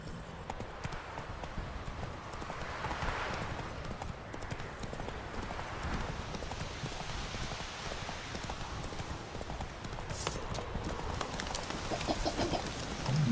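Roach, a horse in The Witcher 3, gallops with steady, rapid clip-clopping hooves at moderate distance, joined by faint ambient bird and fowl calls.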